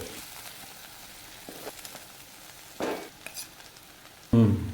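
Okra and potato stir-fry turned in a pan, low sizzling under intermittent spatula scrapes and knocks, ending in a loud close clatter against the pan.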